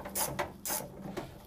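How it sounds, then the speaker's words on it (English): Ratchet wrench loosening tailgate bolts on a 2003 Nissan Frontier pickup, a few quick bursts of clicking close by with short pauses between them. "the next thing you wanna do is remove these two bolts"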